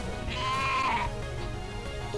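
Cry of a sheep-like Pokemon in the Pokemon Uranium video game, a loud bleating tone about a second long over steady game background sound.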